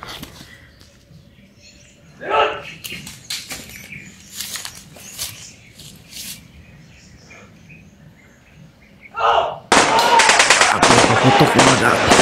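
Video game gunfire from a shootout at a grandfather's house: scattered sharp shots and short bursts at varying distance, ending in a loud sustained barrage, with a quiet ambient background between shots.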